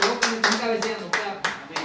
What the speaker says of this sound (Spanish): Dale un fuerte aplauso, Señor